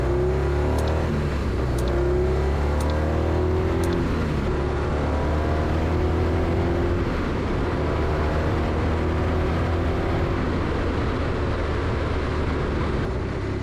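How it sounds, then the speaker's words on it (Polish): A BMW R 1200 R motorcycle engine revving steadily upward through rising tones as it accelerates from 0 to 100 km/h, loud and continuous with no talking. "tak wygląda przyspieszenie od 0 do 100 km w moim wydaniu."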